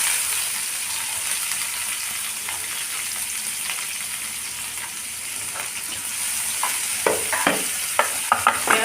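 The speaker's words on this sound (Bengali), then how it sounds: "জিরেটা একটু ভাজা ভাজা হয়ে গেলে আমি পেঁয়াজটা দিয়ে দিচ্ছি" Onion goes into hot oil already tempered with cumin seeds and sizzles steadily as it is stirred. The frying hiss is continuous, with sharper scraping and clinking of a utensil near the end. No one speaks.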